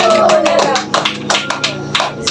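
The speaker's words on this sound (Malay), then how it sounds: "Bagi tepukan" Students at an alternative learning centre on Pulau Opak clap in a short burst of quick, fairly close handclaps, with a voice partly over them.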